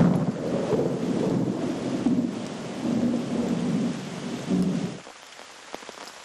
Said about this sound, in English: Intense thunderstorms are frequent.